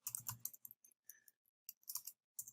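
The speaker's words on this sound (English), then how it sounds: "we're going to type in git remote add origin" Bursts of quick key clicks from a computer keyboard as a command is typed in, close and clear, in several short runs separated by pauses.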